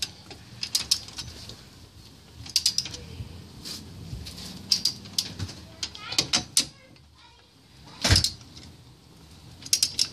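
A torque wrench set to 85 pounds tightens hub bolts on a 2006 Chevrolet Uplander, producing repeated close ratcheting clicks in short bursts with sharper clunks between them, while a person talks quietly in the background.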